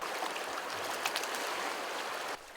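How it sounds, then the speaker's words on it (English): Crystal Creek runs through a ranch, giving a steady, close broadband wash of flowing stream water with no voices, until the sound drops off sharply near the end. "Right through the ranch flows the aptly named Crystal Creek."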